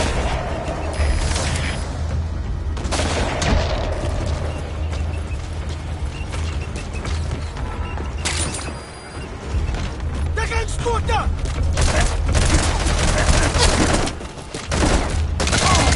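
A gunfire volley in MGSV erupts after the command to fire, sustained heavy bursts and booming impacts layered with mechanical clatter, loud and continuous, with voices in the mix.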